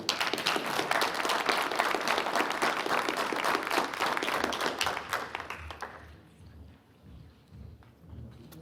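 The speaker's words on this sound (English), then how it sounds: "Big round of applause for our new employee." Crowd applause in a county commissioners' board meeting for a new sheriff's department DNA criminalist, steady dense clapping for about six seconds before fading to quiet room tone.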